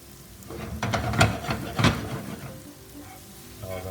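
Garlic frying in a pan on lowered heat, a soft steady sizzle broken by a few sharp scraping clicks as the pieces are turned, close and fairly quiet.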